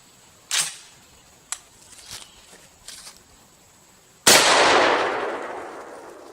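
A J.C. Higgins semi-automatic 12-gauge shotgun with a Veri-Choke fires once outdoors at 60 yards, a loud sharp blast followed by a long fading roll, preceded by a few faint clicks and handling knocks.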